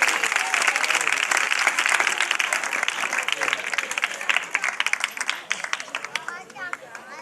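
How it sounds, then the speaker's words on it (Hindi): Church congregation claps for a pastor, loud dense applause that thins into scattered claps toward the end, with voices and someone speaking underneath. "इनके लिए जोरदार तालियां बजाएंगे"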